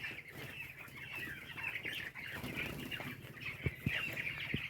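Chickens cluck and murmur continuously throughout on a poultry farm with brooder pneumonia, a crowded flock with a few sharper squawks near the end and occasional wing flutters.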